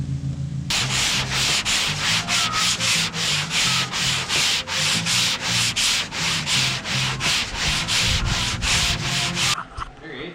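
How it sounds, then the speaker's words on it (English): Loud, rhythmic hand sanding of body filler on a Honda Civic body, steady back-and-forth scraping strokes repeating for several seconds before stopping. "we got the entire car fully done sanding"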